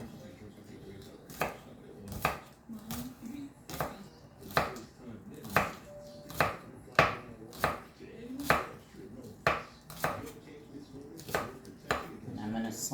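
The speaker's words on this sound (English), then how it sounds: "I peel the top part of my green onion off. And I'm going to trim off the bottom." Green onion being chopped with a knife on a board: a steady series of crisp, close thuds at roughly one-second intervals for the whole stretch, with a soft hint of background voice.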